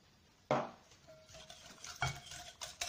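Bread dough ingredients with oil and salt are stirred in a bowl for brioche-style homemade bread, making a few short scraping clinks and knocks of utensil against the bowl, close and fairly quiet.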